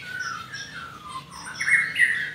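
Birds squawking in an aviary housing a breeding colony, shrill overlapping calls rising and falling at moderate distance, with no talking.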